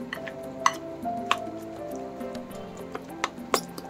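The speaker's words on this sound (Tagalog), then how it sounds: "Pagsama-samahin na natin yung ating mga sangkap. Ayan, hahaluin lang natin siya ng hahaluin." Chicken dumpling filling ingredients being mixed by hand in a bowl, with soft squishing and stirring plus occasional sharp clinks against the bowl, close and steady, with no talking.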